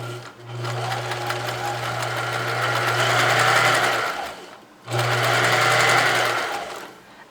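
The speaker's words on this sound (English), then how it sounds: "We'll sew a little seam here." Kenmore sewing machine stitching a seam at full speed, a close steady whirring hum in two bursts separated by a brief pause, with no voices.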